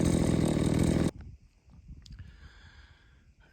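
An EFCO chainsaw roars loudly and close for about a second during pasture clearing, then cuts off abruptly, leaving faint outdoor rustling and a few light knocks.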